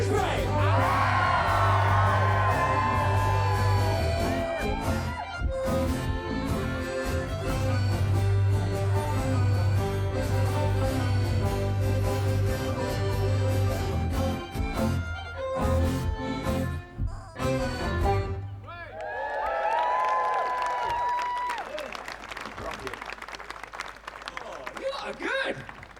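A festival crowd at Shrewsbury Folk Festival screams, whoops and cheers loudly in sustained waves, dropping briefly before surging again, with a voice shouting over it.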